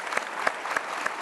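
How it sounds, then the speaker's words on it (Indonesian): Crowd applause from a studio audience at a televised talk show, short bursts of clapping with a few rhythmic peaks, moderately loud and heard alone. "Kita kasih tepuk tangan dong untuk Fajar."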